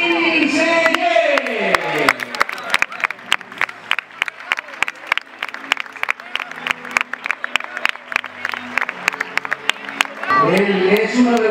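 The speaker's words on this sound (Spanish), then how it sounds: "un fuerte aplauso para Serín Serie" Audience at a CD Castellón volleyball team presentation bursts into applause for a player, scattered rapid claps filling the space between an announcer's voice at the start and end.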